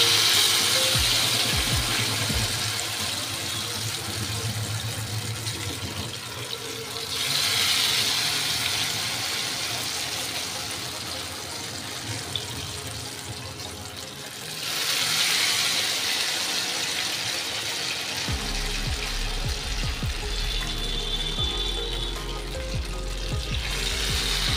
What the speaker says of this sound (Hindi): कढ़ाई में तेल है, गर्म हो गया है। अब इसको हम इस तरह डिप करके